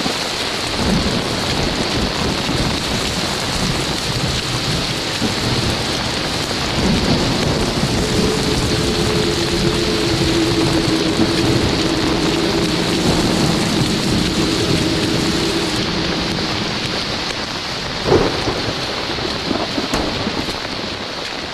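A steady thunderstorm with heavy rain hissing continuously, a low rolling rumble of thunder building in the middle and a brief sharp crack near the end, no voices.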